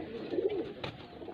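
A single soft, low coo from a Chapra (Crush) breed pigeon rolls out briefly up close, with a faint rustle at its end.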